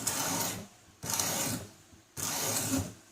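A knife is sharpened on a 240 grit diamond whetstone in a fixed-angle sharpener, three rhythmic rasping strokes, each about half a second to a second long, with brief pauses between, close and moderately loud.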